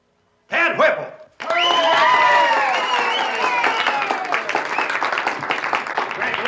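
A studio audience at a talent contest breaks into loud applause and cheering, preceded by a brief burst of voices; the clapping swells quickly and carries on thick and steady to the end.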